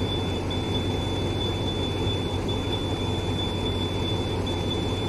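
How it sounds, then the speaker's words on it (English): A locomotive's cab warning alarm in Train Simulator Classic on a Turkish mountain route sounds as a thin, high, steady tone with a brief break or two, over a constant low rumble. "Now it's beeping twice."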